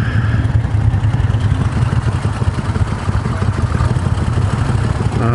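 Moto Guzzi motorcycles ride away from Innsbruck with a continuous, close, rumbling engine drone and light mechanical clatter, steady throughout.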